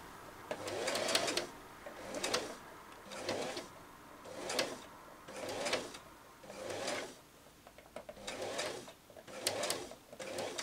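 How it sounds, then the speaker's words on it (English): Sewing machine stitching elastic onto ankara fabric, running in short slow bursts with pauses between, a rhythmic mechanical whirring and clatter, close and moderately quiet, with no talking. "Then I press it down. Then I slowly sew."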